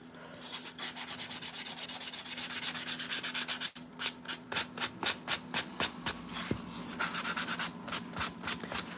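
Close-up sanding of a miniature urban diorama surface meant to look like cracked concrete, fast regular back-and-forth rasping strokes that briefly stop, then resume in crisp rhythmic bursts.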